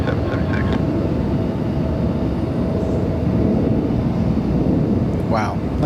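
A SkyWest passenger airplane takes off from runway 24 left at Los Angeles International Airport, a loud, steady, broadband jet engine roar that fills the whole span, heard from nearby.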